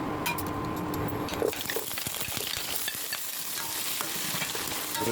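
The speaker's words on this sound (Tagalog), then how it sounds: "Piprituin muna natin yung carrots sa patatas" Carrots and potatoes fry in hot oil in a pan for a mackerel curry, giving a busy, close sizzle broken by scraping stirs and the odd light clink, with no one talking.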